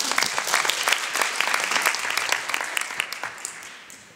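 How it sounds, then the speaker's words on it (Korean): Steady applause from a crowd at an art exhibition opening, a dense patter of clapping that continues throughout and tapers slightly at the end. "박수 부탁드리겠습니다"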